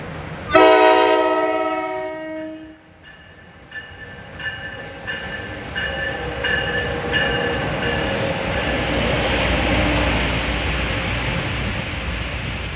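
A passenger train led by a Metroliner car passes near Secaucus and Rutherford, New Jersey. A loud, sustained horn blast is followed by shorter horn notes, then a roaring wash of wheels and wind as the train rushes close by.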